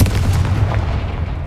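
Confringo blasting spell going off in the Hogwarts Legacy video game, a loud, continuous booming rumble heavy in the low end, sustained through the whole moment without any voice over it.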